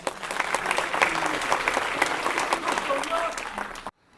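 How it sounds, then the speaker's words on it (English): A city address audience in Monrovia breaks into sustained applause, dense and even clapping for about four seconds before cutting off abruptly. "Now, that deserves some applause"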